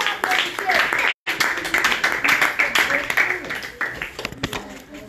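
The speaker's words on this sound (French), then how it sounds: "Applaudissons alors." An audience claps at a fund-handover ceremony. Uneven applause goes on throughout, with a brief break, and voices talk over it.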